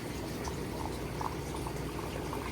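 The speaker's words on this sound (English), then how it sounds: "go nice and slowly, let it fill up with water" Water filling a plastic plant culture cup from Petco, a steady low bubbling and gurgling that continues throughout, fairly quiet and close.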